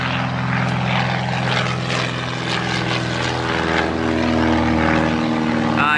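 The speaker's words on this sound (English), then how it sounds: "Oh, here comes a plane." A propeller airplane passes overhead on Cape Cod, a loud, steady droning engine hum that stays strong and close throughout, with no talking over it.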